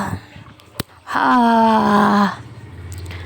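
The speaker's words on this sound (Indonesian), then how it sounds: "Suara menguap." A single drawn-out, voiced yawn about a second long, loud and close, made by a teacher's voice in a lesson on sneezing and yawning etiquette in Islam.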